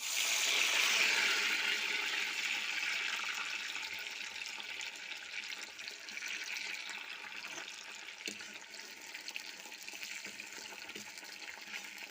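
Raw banana chips deep-frying in oil in an iron pan give a steady, bright hiss of bubbling, loudest at the start and easing slightly as it continues, with no talking.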